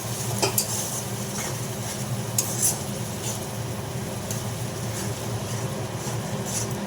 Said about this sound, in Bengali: মশলাটা ভালো করে হোক